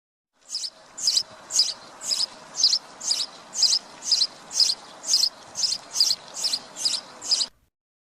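A sparrow chirps steadily, with about a dozen short, bright chirps spaced evenly at a regular pace, clear and fairly close against a faint hiss.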